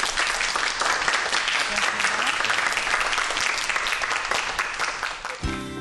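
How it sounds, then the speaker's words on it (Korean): Lecture audience applauding after a talk about light, a dense, loud, steady wash of clapping that continues for several seconds before cutting off at the end. "오늘 빛에 대해서 재미난 강의해 주신 우리 이 교수님께 여러분 큰 박수 부탁드리겠습니다"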